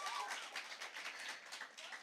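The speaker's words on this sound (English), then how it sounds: "Please give her a round of applause." Faint, continuous applause from an audience at a secondary-school impromptu speaking competition welcoming the next speaker, a soft even patter of many hands at a distance.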